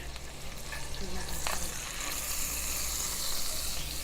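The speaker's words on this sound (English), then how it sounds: "Take the butter and just baste this steak." Ribeye steak sizzles steadily in a cast iron pan while being basted with melted butter, a continuous close frying hiss with small crackles and a brief scrape of the spoon.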